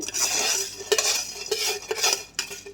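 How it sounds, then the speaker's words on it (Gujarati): Garlic chutney being mixed into puffed rice for lasaniya sev mamra in a metal bowl, close scraping and clinking of a spoon against the bowl in repeated strokes with a dry rustle underneath. "આ સારી રીતે ચટણીને આમાં મિક્સ કરી દેવાની છે"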